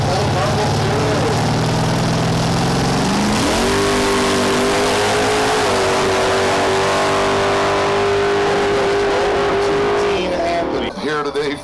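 1955 Chevy race car at a drag race event, its engine idling roughly then revving up and holding a loud, sustained high roar before cutting back near the end, close and dominant with crowd noise behind.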